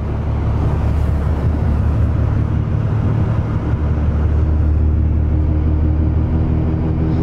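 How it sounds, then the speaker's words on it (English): A car drives through a snowstorm on tires fitted with snow chains, giving a steady, dense rumble and grinding roar that holds at a constant level throughout. "snow chains, tire chains, tire cables."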